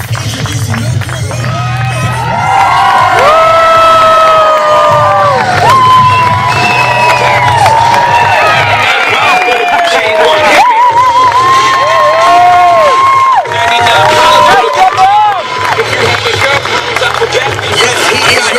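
Wedding guests roar at a reception as the groom is introduced, a loud, continuous crowd of cheering, whoops and high whistles over a thumping background, with voices and shouting throughout.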